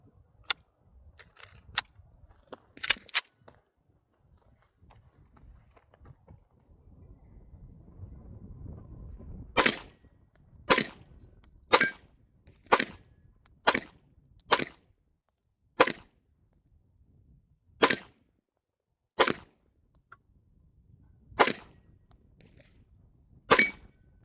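An FN 509C Tactical 9mm pistol with a threaded barrel fires outdoors: a few sharp shots, a pause, then a steady string of about a dozen loud, evenly spaced cracks, each ringing briefly over quiet ambience.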